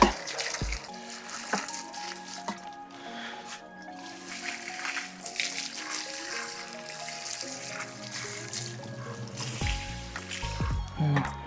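Water is poured over garden plants in a Carpathian mountain village, with drips, squishes and a steady trickle that runs close and moderately loud throughout, broken by a few louder splashes near the end.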